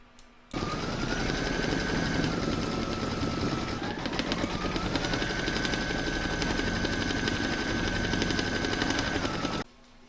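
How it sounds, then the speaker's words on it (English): An embroidery machine stitches an in-the-hoop design, a fast, even mechanical whirring and rapid needle hammering that starts abruptly, runs steady and loud for about nine seconds, then stops. "I'm going to put that in my machine and stitch round number 4"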